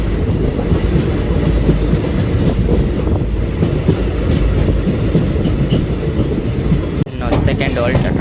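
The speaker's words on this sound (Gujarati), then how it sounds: "તો ટ્રેન ચાલવાની શરૂ થઈ ગઈ" The Bhavnagar to Surendranagar passenger train rumbles along with rhythmic wheel clatter and faint squeals, loud and close inside the carriage, with a brief jolt near the end.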